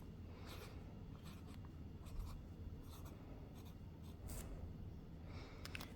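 A fountain pen nib writing on paper, quiet scratchy strokes in short bursts up close, faint and steady with small pauses between words.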